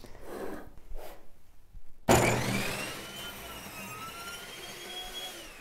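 A table saw cuts through wood held against a miter gauge with a cutoff backer, starting abruptly with a loud whining burst that settles into a steady high-pitched running drone, after a quieter lead-in.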